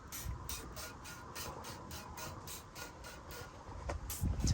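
Flitz tarnish remover sprayed onto a copper sink in a van, heard as a rapid series of about a dozen short rhythmic hissing spray bursts, quiet and close, ending with a low handling thump.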